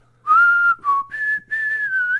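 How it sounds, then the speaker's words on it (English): A lone human whistle plays a short melodic phrase in a few sustained, sliding notes with brief gaps, clear and close, standing in for the opening of a country song. "But it's got that like that whistled intro."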